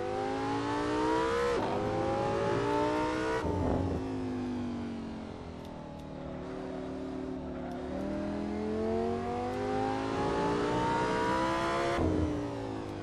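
Car engine in Assetto Corsa repeatedly revving up through the range, rising pitch sweeps broken by gear-change drops and lifts, loud and close over thirteen seconds.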